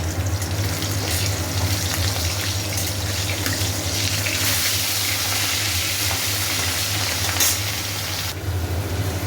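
Fish fries in hot oil with a loud, unbroken sizzling hiss, steady throughout with occasional faint spatters.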